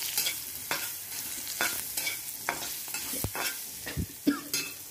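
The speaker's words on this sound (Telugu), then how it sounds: "వేగనిచ్చిన తర్వాత కొంచెం ఇంగువ వేసుకోవాలి." Spices sizzle in hot oil in a pan as asafoetida is added for tempering, a soft steady frying hiss broken by irregular clinks and scrapes of stirring.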